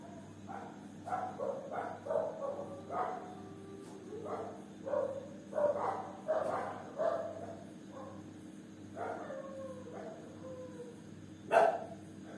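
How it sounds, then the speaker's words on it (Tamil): A dog barks repeatedly outdoors, a run of sharp, mid-distance barks and yips in irregular bursts with a louder bark near the end, over a low background hum. "நாய் கத்துது"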